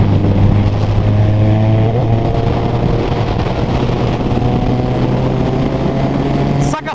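Loud, close engine roar through a straight pipe exhaust with no muffler, a deep continuous rumble that holds steady for several seconds and then cuts off abruptly at the end.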